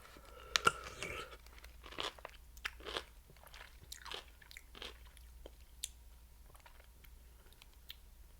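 Crunchy vinegar-flavored snack chips bitten and chewed close to the mic, a run of sharp irregular crunches with one loud bite early on, then quieter crackly chewing bursts at a soft overall level.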